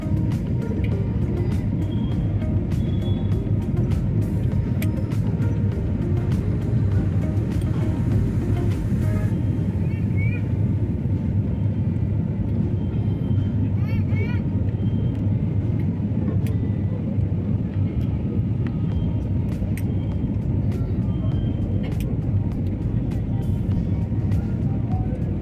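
Steady, loud roaring rumble inside an airliner cabin as the flight descends toward landing at Ranchi, a continuous engine and airflow drone that holds unchanged throughout.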